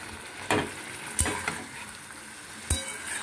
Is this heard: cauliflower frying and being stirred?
yes